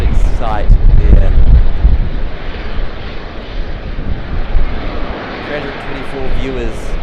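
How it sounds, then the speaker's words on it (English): An Airbus A380 airliner takes off at Sydney Airport, its deep jet engine roar loud and sustained amid wind buffeting on the microphone, with voices talking over it. "while that A380 was taking off"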